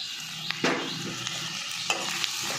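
Soaked basmati rice sizzles as it is stirred into softened onions in a hot pan, with scraping spoon strokes and steady frying hiss, close up.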